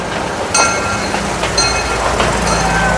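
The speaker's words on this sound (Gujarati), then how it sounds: "એ જો ટ્રેન આવે" The Jabalpur Express rolls past nearby at Kankaria, Ahmedabad, loud rumbling with rhythmic metallic clacks of wheels over rail joints and faint squeals.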